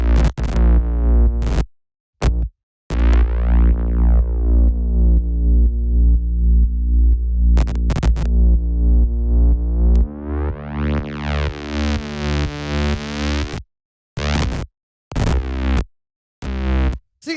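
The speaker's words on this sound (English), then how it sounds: "After that, we have the bass, which sounds like this." Deep synth bass from a melodic house track plays a simple progression of long sustained notes with filter sweeps opening and closing, then shorter rhythmic pulses broken by gaps, loud and solo.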